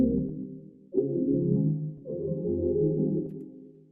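Layered melodic synth sounds from an FL Studio R&B beat play together as sustained, full chords that shift twice in steady succession, with no drums and no voices.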